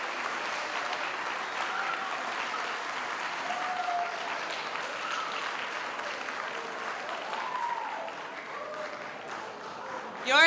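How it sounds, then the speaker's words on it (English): Sustained applause from a large audience at a middle school forum, steady and moderately loud throughout, with a few voices faintly audible within it. "give a round of appreciation applause to all of the people who came out to speak with you"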